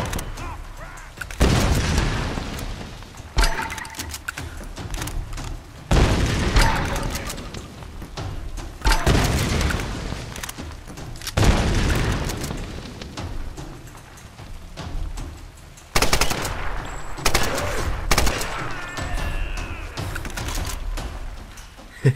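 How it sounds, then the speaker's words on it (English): A grenade launcher fires in the Tomb Raider video game, with loud, booming explosions in repeated bursts and short gaps between them, along with rumbling blasts and some game noise. "I love the grenade launcher"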